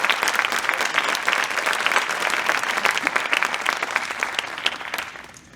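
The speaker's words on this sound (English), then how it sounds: "Can we have a round of applause for Bert tomorrow?" Applause at a high school Wall of Fame induction ceremony, steady dense clapping from the audience that holds evenly, then tapers off near the end.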